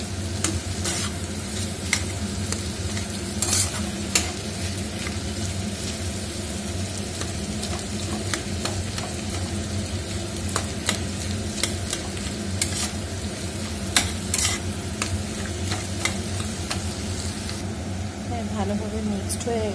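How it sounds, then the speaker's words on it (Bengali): Boiled potatoes stirred in a frying pan for a vegetable chop: a constant sizzle runs throughout, broken by frequent sharp scrapes and clicks of the spatula, close and fairly loud. "এরপর দিয়ে দেব সেদ্ধ করে রাখা আলু, একটু ভালোভাবে নেড়ে"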